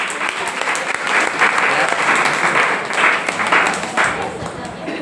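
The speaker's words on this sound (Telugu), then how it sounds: "అందరు క్లాప్స్ కొడదాం ఒకసారి సండే స్కూల్ పిల్లలందరికీ" Audience applause for Sunday school children at a church gathering, steady dense clapping from a crowd that holds at an even level for several seconds.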